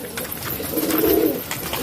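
Pigeons coo softly in a short low burst, a gentle throaty murmur close by with some faint background noise.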